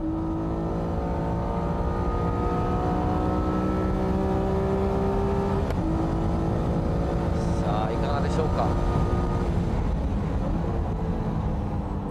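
Honda NSX Type S engine pulling hard through the gears on a time attack lap, a loud steady in-car drone with rising and falling pitch and a brief shift lull, with occasional commentary layered over it.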